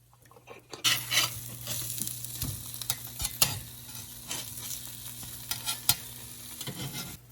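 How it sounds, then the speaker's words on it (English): Spam slices from three cans fry in a pan on a stovetop with a steady, close sizzle, broken by occasional clinks and scrapes of stirring. No one speaks. "we're starting to fry up the Spam a little bit on the stovetop"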